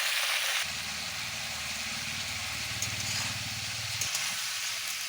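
Cauliflower and potatoes sauté in a pan with a steady, close sizzling hiss, and a low hum runs underneath for most of the stretch.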